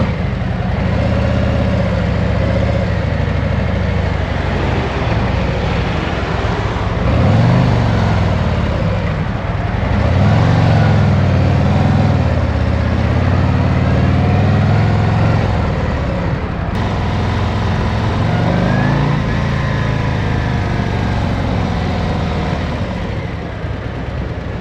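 A Harley-Davidson Street Glide motorcycle with its standard exhaust runs at a steady, subdued low rumble, swelling slightly mid-way as if given a little throttle, with music playing along throughout.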